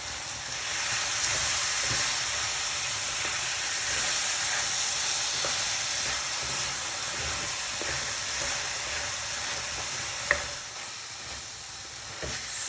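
Lamb mince frying dry in a pan for a creamy lamb lasagne, giving off a steady, even sizzling hiss that runs throughout, with a faint clink near the end.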